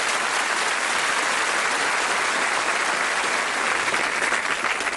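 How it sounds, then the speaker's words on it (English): Loud, dense audience applause for game show contestants, a sustained wash of many hands clapping that holds steady for several seconds without letting up. "Let's give our contestants a nice round of applause."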